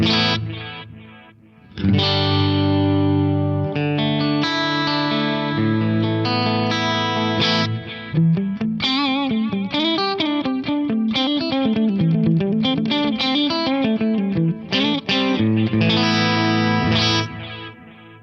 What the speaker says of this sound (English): just a lovely modulated delay sound